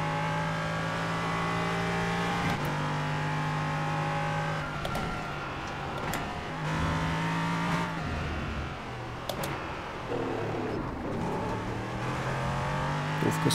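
A Formula car in a racing video game laps Monza, its engine droning loud and constant, revving up through the gears with brief dips and shifts as it brakes and accelerates, with no talking.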